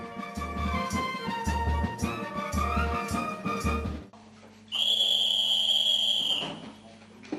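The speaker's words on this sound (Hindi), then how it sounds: "ठीक 10 बजे की सीटी ऐलान करती है सोने के वक्त का।" A shrill whistle sounds at an army camp to announce bedtime at 10 o'clock, a loud sustained blast lasting about two seconds that follows a stretch of rhythmic music.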